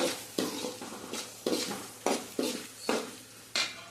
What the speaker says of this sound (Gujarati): હવે આપણે એને હલાવી નાખશું